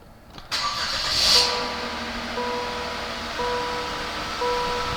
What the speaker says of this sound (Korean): 우렁차게 시동 걸리고요